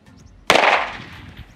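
A single sharp report from a 32 bore pistol fired at a car tyre outdoors, near and loud, with a short decaying tail after the crack.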